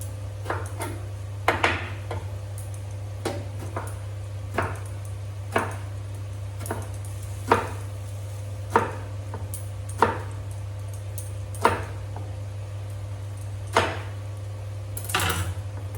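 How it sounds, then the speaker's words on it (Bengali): A knife chopping eggplant on a board with about a dozen separate sharp cuts at uneven intervals, over a steady low electrical hum, then a brief rustle of handling at the end. "হয়ে গেছে বেগুন কাটা।"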